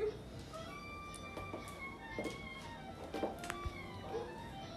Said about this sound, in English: Oh, the kitties like it.